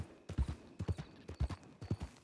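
Horse hooves clip-clop in a stable, a faint, even run of about eight or nine hoof strikes falling in loose pairs.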